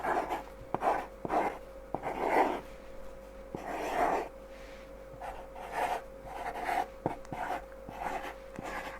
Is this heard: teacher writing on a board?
yes